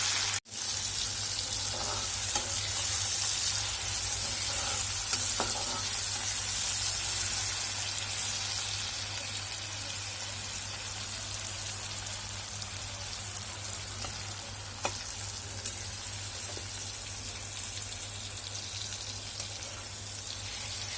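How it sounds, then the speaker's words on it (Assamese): Chopped tomato fries in a pan of fried garlic paste, giving a soft, steady hiss that continues evenly for about twenty seconds at low volume, with a low constant hum underneath and no talking. "নহৰু পেষ্টটো ভাজি হোৱাৰ পিছত তাতে দিছোঁ মই বিলাহী।"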